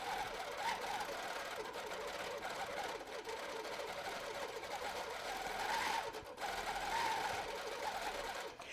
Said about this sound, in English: I do press down the foot pedal and then I'm ready to stitch.